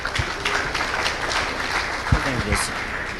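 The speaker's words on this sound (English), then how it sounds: "If you are clapping, please clap for Tarragon Group." A conference audience applauds in a broad, steady wash of clapping, with a voice talking over it partway through.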